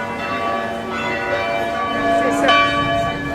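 Church bells of Notre-Dame and Saint-Castor ringing from a distance, a steady layered peal of sustained tones heard outdoors, moderately faint, with soft voices in the background.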